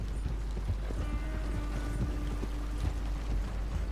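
Horse hooves clip-clopping in the video game Red Dead Redemption 2, a steady rapid patter of hoofbeats running continuously under a dense, noisy outdoor rumble, with no pause over the few seconds.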